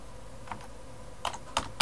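A few sparse computer keyboard keystrokes sound faintly while text is typed into a sign-up form, scattered clicks over a quiet hum.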